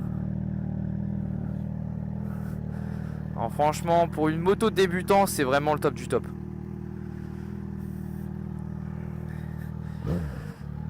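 A Yamaha XJ600 motorcycle idles close by with a steady low drone throughout while someone talks over it, and the engine note briefly lifts near the end.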